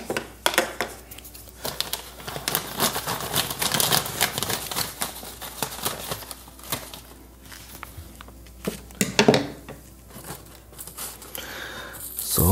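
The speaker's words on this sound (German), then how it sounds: "Und jetzt hauen wir mal den Sand rein." Sand scooped with a spoon and poured into a Fluval Flex saltwater aquarium, giving scattered close crunching, rustling and gritty pouring bursts of varying loudness.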